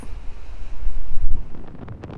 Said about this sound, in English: today it is windy weather